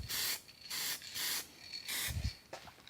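Aerosol spray tint hisses onto car headlights or tail lights of an Austin Mini Van in four short bursts, each about a third of a second, close and crisp with pauses between, followed by faint handling noises.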